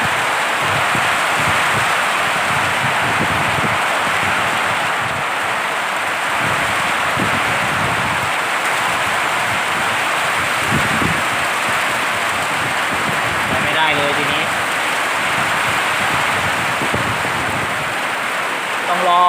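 Steady heavy rain roars over a farm throughout, a dense unbroken wash of noise with faint low thumps and brief voices underneath.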